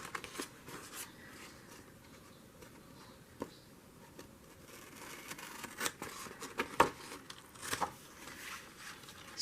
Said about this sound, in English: So get my new scissors here.